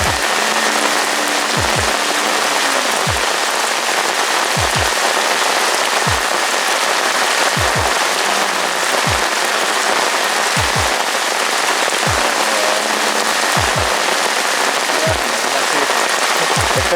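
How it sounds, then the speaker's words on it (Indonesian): Rain falls steadily on Selorejo reservoir, a loud, dense hiss of drops that holds through the whole stretch, broken by a few faint low thumps and brief tones. "Hujan."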